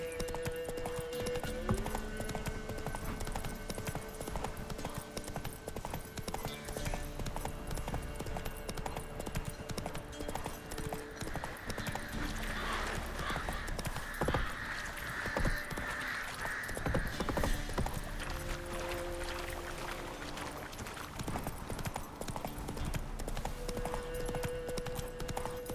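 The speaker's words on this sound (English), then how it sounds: "Whoa there, Roach." A horse's hooves clip-clopping in a steady galloping rhythm in The Witcher 3, continuous and moderately close over game ambience and music, with occasional snorts.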